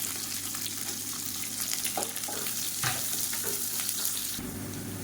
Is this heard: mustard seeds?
yes